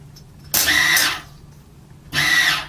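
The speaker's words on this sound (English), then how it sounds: "Spin that round and we'll put a weld on the other side" Two short, hissing, crackling bursts of welding sound close by as pieces of scrap steel are joined for a mini forge, with a quiet gap between them.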